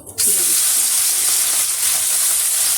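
Small fish sizzle loudly as they fry in hot mustard oil in a wok, a steady dense hiss that starts abruptly and holds without a break.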